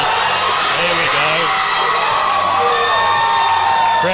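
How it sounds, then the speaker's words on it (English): Loud, continuous crowd cheering and whooping at a state-qualifier powerlifting competition, a dense roar of many voices sustained throughout. "Crowd goes wild."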